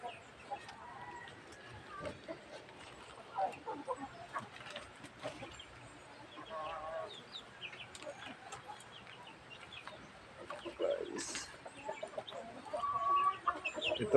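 Chickens cluck softly and intermittently throughout, with occasional sharper calls and rustling in a quiet coop-like setting.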